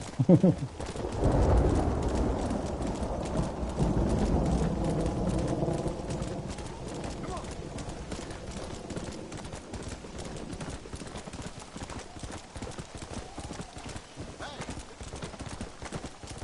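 Rhythmic clip-clop of horse hooves while riding in the Western video game Red Dead Redemption, steady and fairly loud throughout, with a person talking over the first few seconds.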